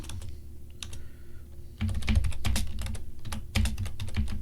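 Fingers type a Linux update command on a computer keyboard, first as sparse scattered key clicks, then as a dense, quick, close run of clattering keystrokes, with no talking.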